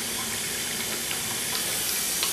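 Water runs steadily through a siphon while sanitizing beer-brewing gear, a continuous close hiss and gurgle with no pauses and no voices.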